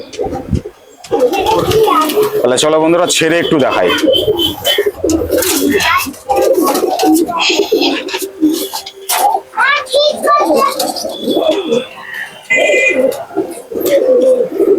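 Domestic pigeons, a hen bird among them, coo softly in a loft while someone talks almost continuously over them; the cooing stays low and partly buried beneath the speech.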